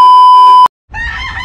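Farm chickens with a rooster crowing, heard after a loud steady beep tone cuts off; the crow and clucking come through clearly at moderate loudness.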